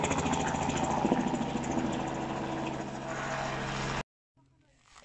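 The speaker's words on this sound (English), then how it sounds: "the helicopter is very close" A helicopter flies very close during a cheetah collaring operation in the wild, its engine and rotor a loud, steady drone that cuts off abruptly, leaving faint background sound.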